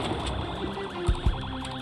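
A wailing siren in Project Zomboid, its warbling tone rising and falling steadily, with two dull thumps cutting in briefly midway.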